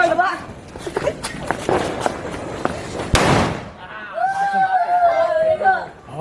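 A homemade hydro bomb firecracker bursts outdoors on a street during Diwali, one sharp, loud blast partway through. Excited chatter, footsteps and bustle surround the bang.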